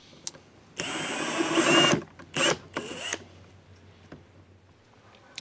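An impact driver on its lowest torque setting drives truss head screws during a Delta Milwaukee bandsaw upgrade, one longer hammering burst followed by two short ones, close and loud against a quiet background.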